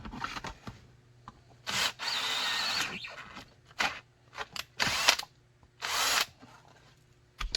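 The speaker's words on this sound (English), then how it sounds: "Okay, and then we'll go ahead and drill those." Power drill boring holes through a heat-formed kydex holster for a Ruger SR9 pistol, heard as several short loud bursts with brief pauses between them, close and without talk.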